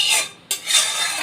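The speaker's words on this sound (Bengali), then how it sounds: "এই যে বেড়ে দিচ্ছি এবার ছেলের বাটিতে।" A spoon scrapes and clinks as oats are served into a child's bowl, two short close scraping strokes with a brief gap between them.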